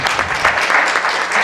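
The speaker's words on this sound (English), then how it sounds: "You may applaud now." Audience applause at a League of Women Voters candidate forum in Butte County, a dense, steady burst of many hands clapping close by, filling the short moment on its own.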